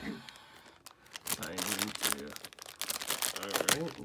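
Plastic crinkling and crunching of a Funko Mystery Minis blind bag, Captain America Civil War series, being cut and opened up close, with bursts of rustling over several seconds alongside talking.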